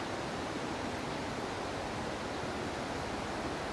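A large river swollen by several days of flood rains, rushing in a steady, dense roar at constant level throughout.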